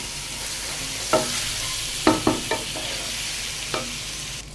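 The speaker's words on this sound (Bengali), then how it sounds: "এরপর এখন দিয়ে দিচ্ছি চালটা আমি একটু ভালো করে ভেজে নিব।" Rice frying in a pan with browned onions for khichuri gives a steady close sizzle, broken by a few sharp scraping stirs of the spoon against the pan.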